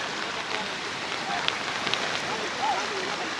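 Heavy rain pours steadily during a multi-day power cut, a dense, even hiss of falling water with no pauses, heard close and fairly quiet.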